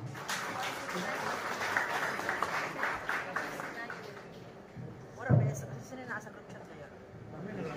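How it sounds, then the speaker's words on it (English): A conference opening audience claps for a welcomed speaker, moderately dense applause for several seconds that thins out, with talk and a thump near the end, heard at a distance. "A thunderous applause for Dr. Matt Winner Yeoman."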